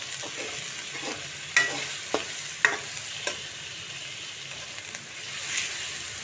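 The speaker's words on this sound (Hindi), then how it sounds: "थर्टी सेकेंड के लिए मिसालों को हमने अच्छे से भुनाई कर लिया।" Spices for handi kabab sizzle softly in a pan as they are stirred, with a few sharp utensil clinks against the metal over a faint, steady frying hiss, close and quiet.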